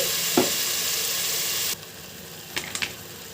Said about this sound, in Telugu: ఇది గోల్డెన్ కలర్ వచ్చే వరకు బాగా వేగనివ్వాలి